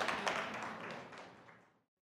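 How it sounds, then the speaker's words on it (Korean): Applause from a small audience after a lecture on the Russian Revolution, a brief burst of clapping with a few distinct claps that fades away in under two seconds, fairly quiet. "박수 한번 부탁드릴게요"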